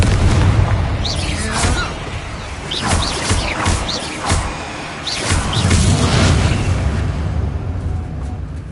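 Repeated booming blasts from the Confringo fire spell in the Hogwarts Legacy video game, each followed by whooshing bursts and rumbling, loud and continuous over about nine seconds.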